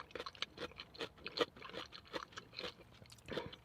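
Repeated crisp crunching bites and chewing of fresh cucumber, close and fairly quiet, in an irregular rhythm with no talking.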